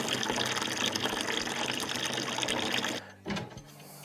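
Water drains from a Wonder Wash manual clothes washer in a steady gushing pour, loud and continuous for about three seconds, then drops off sharply with a brief final splash and trickle.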